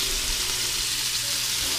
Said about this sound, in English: just little cubes. I'm gonna brown it.